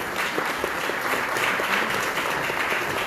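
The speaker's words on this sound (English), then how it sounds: "Priyatama Patil, everybody, a big round of applause" At the inauguration of the Goa Open Innovation Challenge 2025, a crowd applauds the arriving Chief Minister with continuous, moderately loud clapping that stays even across the whole stretch.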